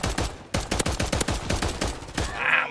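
Rapid pistol gunfire from Call of Duty: Modern Warfare III, a fast string of about a dozen sharp, loud shots in steady rhythm across the clip, with a brief bright ringing tone near the end.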